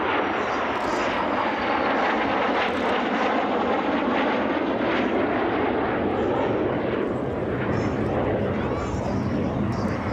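A steady, loud engine roar of an aircraft at the 2014 Dunsfold air show fills the whole stretch, broad and continuous with no break, as if passing close overhead.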